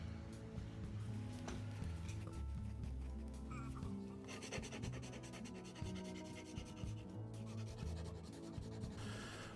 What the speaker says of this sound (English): What I'm using here is a Shinto saw rasp.